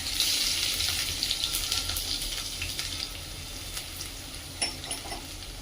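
Mustard seeds and cumin sizzle steadily in hot oil for Indian-style lentil fritters, a dense close crackle that carries throughout with a few sharper pops near the end.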